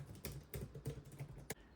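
Fingers type on a JPHTEK mini foldable Bluetooth keyboard, producing a handful of soft, quiet key clicks at an irregular pace, close up and alone.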